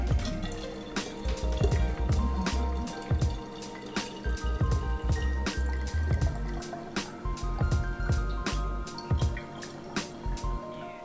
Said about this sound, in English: I'm still gonna put it through the strainer just for aeration